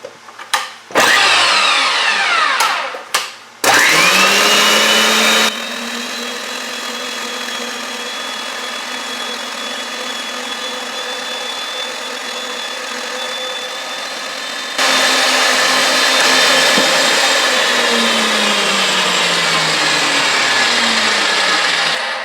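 A power tool spins up and cuts through steel in a shop, with a long, loud, steady whine that drops back at the end, preceded by a few short bursts and clatter.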